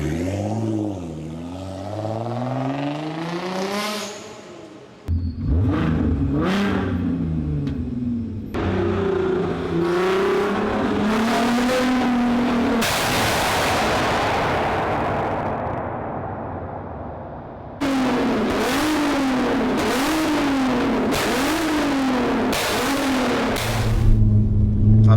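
Stage 2 tuned VW Golf R32 MK5 with a loud aftermarket exhaust, accelerating through repeated rising engine sweeps with sharp gear changes and bursts of revving, close and loud throughout with no talk.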